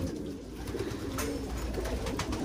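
Several pigeons coo softly and steadily, their low rolling calls overlapping against a busy background hum.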